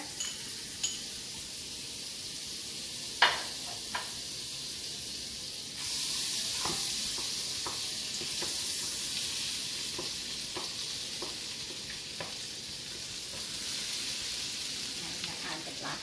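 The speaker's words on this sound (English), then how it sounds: "I'm gonna heat up the butter." Butter heating in a pan for a vegetarian Guyanese black-eyed cake filling begins a steady, close hiss and sizzle about a third of the way in, with a few sharp utensil clicks scattered throughout.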